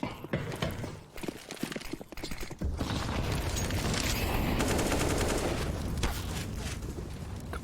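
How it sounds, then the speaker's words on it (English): Gunfire in the video game Counter-Strike on the Nuke map during a pro match: scattered shots, then a long, dense burst of overlapping fire and utility blasts, with faint commentary underneath. "Couple shots come through for Electronic."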